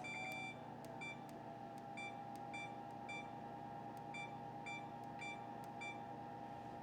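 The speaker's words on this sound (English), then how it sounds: "I'm going to set the timer for 14 minutes." Repeated short electronic beeps from an oven timer being set, about ten evenly spaced chirps over steady kitchen background hum, close and clear.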